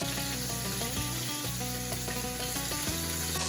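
Oxtail pieces sizzle and crackle in a pot of hot oil, a steady close frying hiss with occasional stirring clinks.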